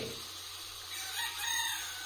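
A rooster crows in the early morning, a sustained call heard at moderate distance over steady outdoor background noise.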